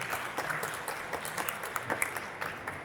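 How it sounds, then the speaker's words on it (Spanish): Audience applause at the ExpoSeguridad México 2025 security expo, a steady moderate clapping from a crowd, sustained throughout without voices. "démosle un fuerte aplauso."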